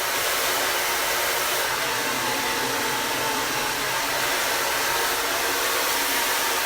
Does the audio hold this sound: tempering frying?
no